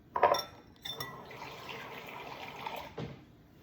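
Water poured into a bowl while pancake batter is being made in a home kitchen, a soft splashing trickle after a couple of light clinks, running for a few seconds before a brief knock at the end.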